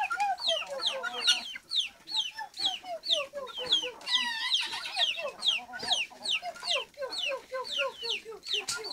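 A flock of chickens clucks nonstop close by, with busy overlapping calls, squawks and rising cackles filling the whole stretch.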